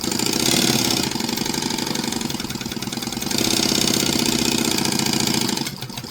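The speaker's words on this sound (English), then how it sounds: "I'm going to sew with an 1/8 of an inch seam allowance" A sewing machine stitching a narrow eighth-inch seam, its rapid, even mechanical chatter running loud and close in two long bursts before slowing to a stop.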